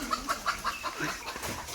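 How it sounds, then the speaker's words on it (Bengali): Chickens perched in a guava tree cluck as they come down, giving a run of short, evenly spaced clucks at moderate distance over faint outdoor background. "গাছে অনেকগুলো মুরগি বসে আছে, নামছে।"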